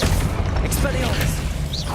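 A short burst of Hogwarts Legacy spell combat as the Expelliarmus charm is cast, with a deep boom and rumbling impacts over dense game noise and a faint whoosh near the end.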